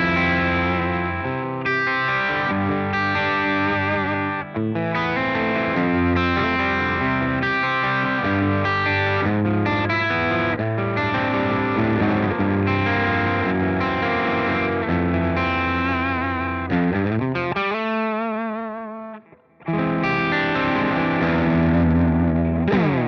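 A distorted electric guitar through the gain channel of a Victory V4 amp plays loud, sustained chords and riffs with heavy saturation. A brief bending, sliding passage near the end leads into a short dropout before the playing resumes.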